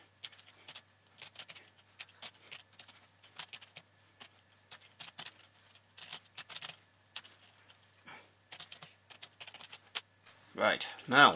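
Commands typed on a computer keyboard, steady bursts of close key clicks with short pauses, ending in a louder clatter.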